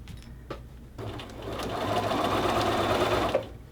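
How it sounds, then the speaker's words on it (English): A sewing machine stitches a shirt cuff seam to the bottom of a sleeve. The motor whirs steadily up close, running continuously for a few seconds before stopping. "sewing the cuff seam to the bottom of my sleeve"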